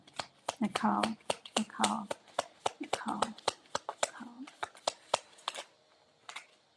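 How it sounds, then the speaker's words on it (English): Rapid, crisp riffling of tarot cards repeats in quick bursts, close to the microphone, while a person talks over the shuffling. "You do see me shuffling. You hear it, right? You hear me shuffling."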